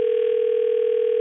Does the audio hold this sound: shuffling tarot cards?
no